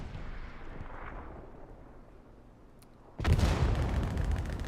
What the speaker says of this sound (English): HRB satchel looks to have gone off.